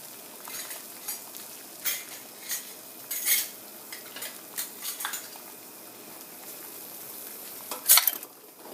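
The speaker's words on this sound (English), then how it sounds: "Rolling boil here," Water at a rolling boil in a pot for sterilizing canning jars gives a soft, continuous bubbling hiss, broken by scattered sharp metallic clinks and clatters, one louder knock near the end.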